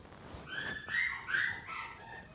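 A dog nearby lets out a string of whiny, yelping barks and whimpers, high-pitched and uneven over a couple of seconds.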